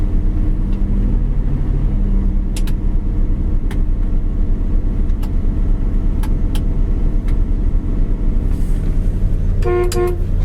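A short, loud honk from the horn of a black 1965 Ford Mustang sounds near the end, over a steady low engine rumble and faint clicks.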